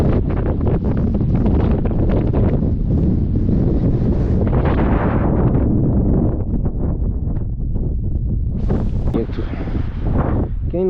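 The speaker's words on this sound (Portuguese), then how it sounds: "O vento está muito forte, está até atrapalhando" Strong wind buffets the microphone on a canyon trail at Cânion Fortaleza in southern Brazil, a loud continuous roar with gusts throughout.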